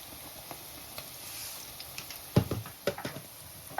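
Onion and ginger sauté in a pan for an egg puff filling, a light steady sizzle broken by several sharp spoon-stirring scrapes and clatters toward the end, close and clear.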